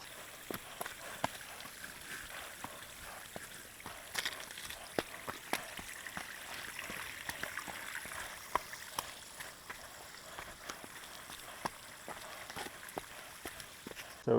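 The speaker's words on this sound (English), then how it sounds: "That's not the trail, that's a waterfall." A waterfall beside a hiking trail in Baxter State Park gives a steady broad rushing wash throughout, with scattered clicks and knocks from nearby movement on top and no talking.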